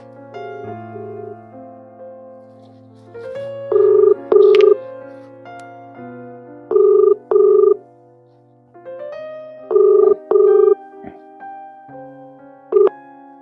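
A phone being dialled for a call home, a string of electronic keypad beeps and ringing tones in short bursts, loud and close, with no talk during the tones.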